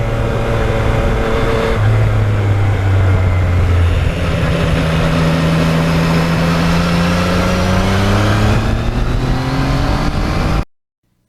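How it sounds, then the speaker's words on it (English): A Yamaha MT-09 motorcycle engine and exhaust pull strongly under acceleration, with a steady deep drone whose pitch climbs through gear changes and falls at a shift, loud and close throughout before cutting off abruptly. "The exhaust system on this bike is not annoyingly loud, and it's got that tuned for the great low-end torque."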